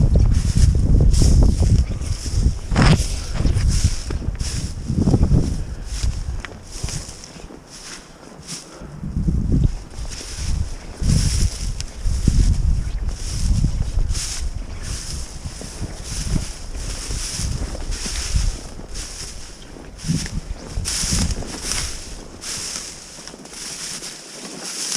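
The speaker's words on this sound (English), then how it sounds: "Wind is horrible." Strong wind buffets the microphone outdoors at a low-water beaver trapping spot, gusting loudly and unevenly in rumbling bursts throughout, with no talk heard.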